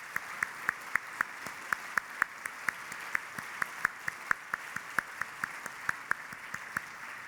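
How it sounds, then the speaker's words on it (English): Sparse, distinct claps from a few people at a conference general session, evenly spaced and fairly faint, sounding more like a small handful than a full crowd. "I'd ask you to give them a huge round of applause"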